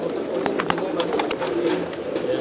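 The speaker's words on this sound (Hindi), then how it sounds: "बहुत ज़्यादा तादाद में कबूतर हैं इनके पास।" Many pigeons cooing together inside a pigeon shop, a dense, overlapping murmur of soft coos with a few wing flutters or clicks close by.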